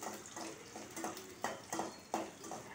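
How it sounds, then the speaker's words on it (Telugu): Green chillies, mustard seeds and fenugreek seeds frying in oil in a pan, a soft steady sizzle broken by a string of quiet pops and crackles at irregular intervals. "పచ్చిమిర్చి, ఆవాలు, మెంతులు, పచ్చిమిరపకాయలు వేగుతున్నాయి కదా"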